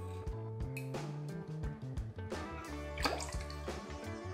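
Half an ounce of maraschino liqueur pours for a gin cocktail, a close trickle with a few drips and splashes, and nobody talks.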